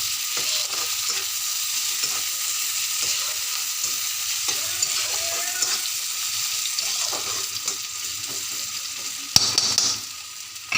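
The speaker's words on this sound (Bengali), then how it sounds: "সামান্য পেঁয়াজ কুচি, ভালো করে নাড়াচাড়া করে" Chopped onion stirred and fried in a pan for a kochur shag dish with fish head, giving a steady close sizzle with frequent scraping stirs and a sharper clatter near the end, no voices.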